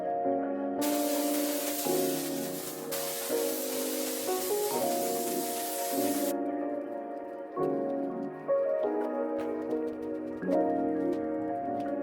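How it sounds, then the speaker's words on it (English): A cordless sprayer misting diluted Hero onto a car, a sharp hiss in a few bursts over a droning background hum, with no talk. "here I'm using Hero diluted in my cordless sprayer"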